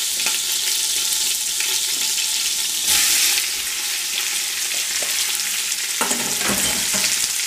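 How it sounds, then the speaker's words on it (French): Onions frying in a cast-iron pot for carbonade flamande, a loud continuous sizzle close by with brief stirring bursts and a few clinks toward the end. "c'est au tour des oignons d'aller faire un tour au fond de la cocotte pour dorer un petit peu"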